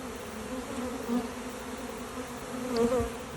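A honeybee swarm marches into a hive box outdoors, making a steady, droning buzz of many bees at close range, with individual bees humming past now and then.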